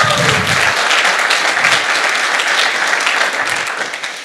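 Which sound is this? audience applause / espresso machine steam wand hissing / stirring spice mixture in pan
audience applause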